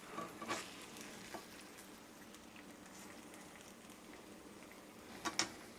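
Eggs cook in butter in a T-Fal frying pan over moderate heat, giving a soft, quiet sizzle with a few brief utensil clicks at the start and near the end, no talking.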